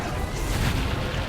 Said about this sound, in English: hit by the secondary explosion